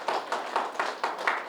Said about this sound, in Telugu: అలాగే ఈ షట్చక్ర పిరమిడ్కి ఒక్కసారి క్లాప్స్ కొట్టుకుందాం.